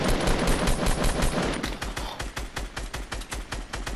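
Rapid automatic gunfire in the Fortnite video game during a close squad fight, loud and continuous, with steady rattling bursts that settle into an evenly spaced rhythm, heard alone without talk.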